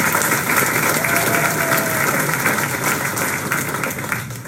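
A seated audience at an Australian presentation applauds steadily, a dense continuous wash of many hands clapping at close range that holds fairly even throughout before easing slightly at the very end.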